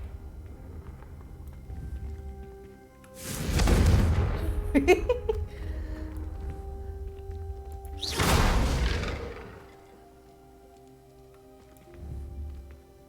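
Two loud, booming blasts from a Confringo fire spell in the Hogwarts Legacy video game, a few seconds apart, each with a rumbling tail over quiet game background.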